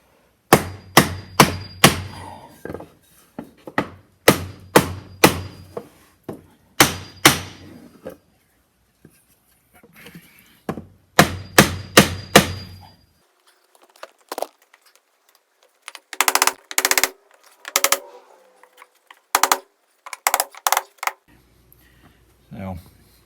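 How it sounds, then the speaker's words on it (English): A hammer striking a block of wood held against a door latch plate to nudge it over, heard as quick bursts of three or four sharp close knocks repeated several times, with scattered softer clicks and handling noises between the bursts. "I'm going to tap this with a block of wood and a hammer"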